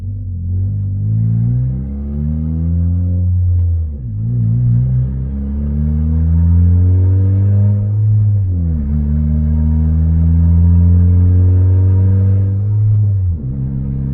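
A turbocharged Toyota Corolla accelerates through several gears, its loud engine note climbing in three long pulls with brief dips at each shift, heard close from inside the car.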